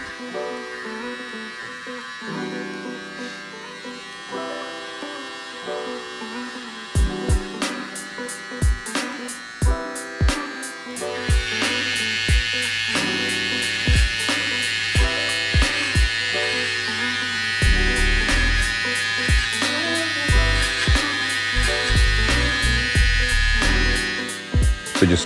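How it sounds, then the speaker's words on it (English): A Babyliss Lo-Pro FX One hair trimmer shapes a hairline, giving a steady close electric buzz that starts partway in, with short clipping bursts over a background hum and no talking. "just hitting up the hairline right now, getting the shape up nice and sharp, clean, crisp, and the trimmer is doing its job perfectly"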